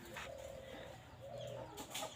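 A female high flyer pigeon coos softly in a few low, rounded murmurs, quiet and close against faint background noise.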